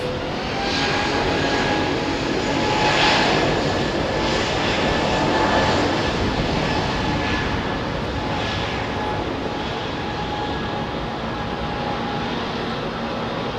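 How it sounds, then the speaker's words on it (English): A Korean Air Boeing 747 jumbo jet passes at Heathrow with a loud, sustained engine roar and whine that swells slightly and then holds steady, with no talk over it. "The Korean Jumbo."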